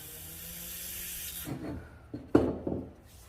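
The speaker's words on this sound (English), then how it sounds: "spray some skookum up there" A steady hiss of aerosol spray into the air vent tube of a 49cc pit bike runs for over a second, then stops, followed by a few soft clunks and rubbing knocks nearby.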